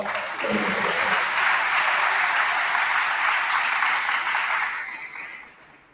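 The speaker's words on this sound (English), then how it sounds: "So can you please give them a warm round of applause?" An audience at a panel discussion on the climate crisis gives the guests a warm round of applause, a full crowd of clapping that swells quickly, holds steady, then tapers off over the last second.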